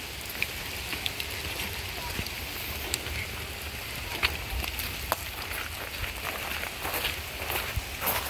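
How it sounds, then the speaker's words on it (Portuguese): Rain falling at a wildlife refuge near Foz do Iguaçu, a steady diffuse patter on surfaces with scattered sharper drops and taps, fairly faint and continuous. "É a chuva, é a chuva."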